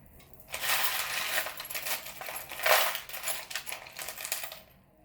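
Small metal charms pulled from a container and dropped, producing a continuous loud jingling clatter of tiny metallic pieces tumbling together for several seconds.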